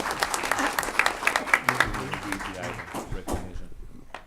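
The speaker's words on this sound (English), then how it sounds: "Applause." Audience applause at a school board meeting during student recognitions, a room of clapping hands that swells then thins out, with voices talking over it.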